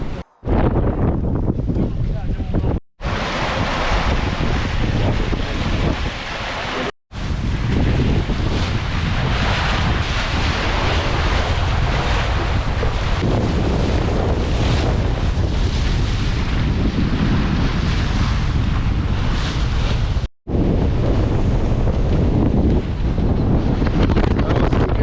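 Catamaran sailing off the Croatian coast at nearly six knots, with strong wind buffeting the microphone and waves rushing against the hulls in a loud, continuous roar broken by a few brief dropouts.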